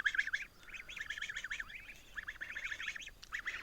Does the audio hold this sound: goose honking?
yes